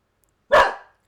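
A dog gives one short, sharp bark up close, a brief burst that fades quickly into silence.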